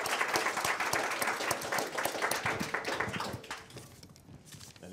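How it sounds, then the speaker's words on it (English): A round of applause fills a room at a community meeting, many people clapping steadily and fairly loud before thinning out toward the end, with a few footsteps mixed in. "I think we owe a big round of applause here."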